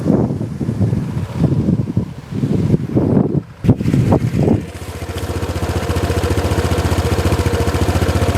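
Wind buffets the microphone in gusts, then a Honda PCX scooter engine starts with no cranking and settles into a steady, even idle that holds to the end.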